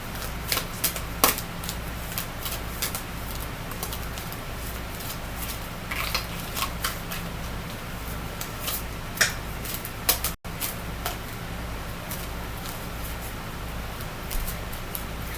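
Tarot cards shuffled by hand produce quiet, crisp riffling clicks and taps in irregular bursts, close and soft, over a faint steady background hum, with no talking.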